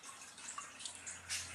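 Black water drops falling during hydrographic dipping, a faint trickling and dripping of liquid with soft splashes spread across the short stretch, no talk.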